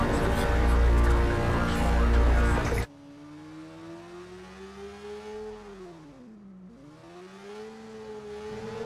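A motorcycle engine revs in the video game Watch Dogs, a whining tone that rises, dips sharply and climbs again, following a loud burst of voices and game noise at the start.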